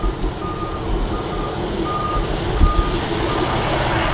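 A truck's reversing alarm sounds outdoors with steady evenly spaced beeps over constant traffic and engine rumble, the beeps moderately distant and clear.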